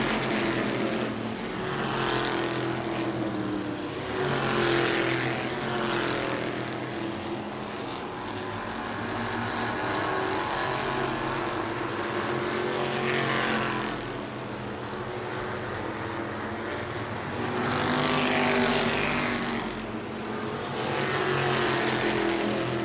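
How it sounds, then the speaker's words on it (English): Race cars at New Smyrna Speedway lapping the track during a race, engines roaring steadily and loudly as cars sweep past in waves, with no talk. "Matt Jarrett flies around the Jeffrey Lawrence machine that just went for the slide for life out of turn 4"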